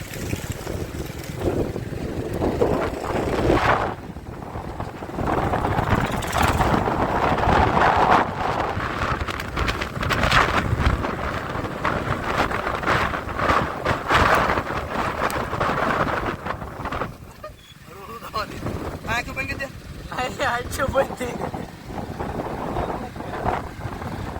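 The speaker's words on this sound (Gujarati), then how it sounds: "જો ભાઈ અત્યારે પવન ને વાવાઝોડું શરૂ થઈ ગયું છે." Strong storm wind roars and pummels the microphone in sustained blasts for a long stretch, loud and turbulent, briefly easing before surging again.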